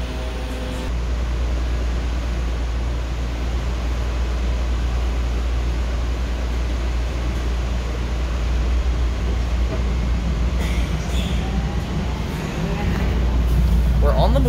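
A Miami Metrorail train rolls between stations, a steady low rumble and hiss of wheels on rail heard from inside the car, with a faint rattle near the end.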